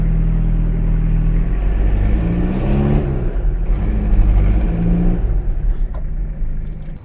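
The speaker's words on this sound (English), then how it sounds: "now it's moving under its own power" A Toyota Hilux under restoration drives under its own power just after cylinder work. A loud, close, steady engine rumble with a low drone and uneven revs runs the whole time, with no voices.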